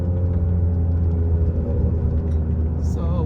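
Loud, steady exhaust drone from a modified car driven in sport mode with manual shifting, a deep continuous rumble filling the whole stretch, with a brief higher whine near the end.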